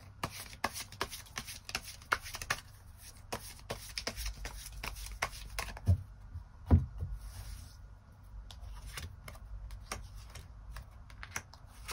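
Tarot cards riffle and flick in rapid, dense bursts of crisp slaps and taps, close and quiet, then a few sharper snaps as single cards are drawn and laid down, with no talking.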